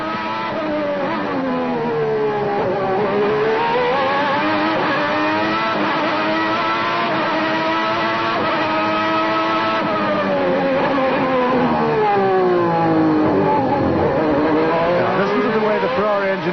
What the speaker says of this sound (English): Listen to the Ferrari.